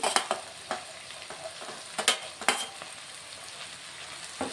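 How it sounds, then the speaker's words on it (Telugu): Tomatoes being stirred into a frying curry, a light sizzle punctuated by repeated spoon scrapes and knocks against the pan, close and without talk. "నేను టమాటాలు తీసుకొని వేసాను కలుపుతున్నాను"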